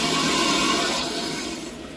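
Water rushes steadily into a newly plumbed hot water tank on a hybrid solar hot water system, a loud continuous hiss and gush that eases slightly toward the end, with no talking.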